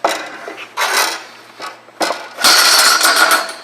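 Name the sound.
heavy-duty steel strapping tensioning tool ratcheting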